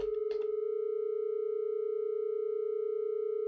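Two sine tones at 432 and 447 Hz blend into a steady, close binaural-beat hum that pulses evenly throughout, with a short burst of voice at the very start.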